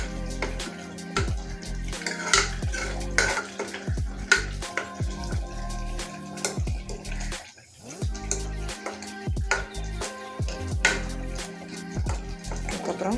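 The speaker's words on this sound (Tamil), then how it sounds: "இப்போ நம்ம நல்லா கழுவி சுத்தம் பண்ணி வச்சுருக்கிற சிக்கனை ஆட் பண்ணுறோம். ஆட் பண்ணிவிட்டு நல்லா ஹை ஃப்ளேமில் வச்சு" Chicken sautéed on high flame in a pan, with a close run of clattering stirs and scrapes and a low frying hiss beneath, and no talk.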